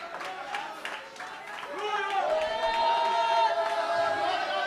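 A church congregation claps and cheers during a worship service, starting with scattered clapping and voices, then swelling into louder sustained cheering and applause with raised voices.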